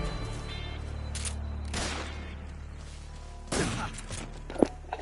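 Gunfire in the stealth action game Metal Gear Solid 3, played on PS5: a few sharp shot bursts spaced over several seconds, moderately loud above a low steady game background.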